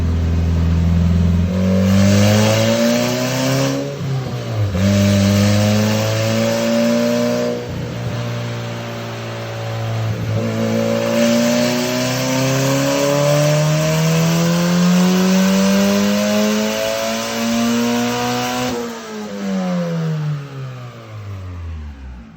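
A Honda K-series engine swapped into a Porsche 911 revs hard on a dyno. Loud, sustained pulls rise in pitch several times, with brief drops between them, and the engine is close and dominant throughout.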